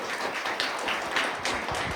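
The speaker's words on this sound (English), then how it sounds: "a round of applause for Neal and Melissa for being here today" An audience applauds at a lunch-and-learn talk on mental health, a steady wash of claps that fills the short moment at moderate volume with no talking over it.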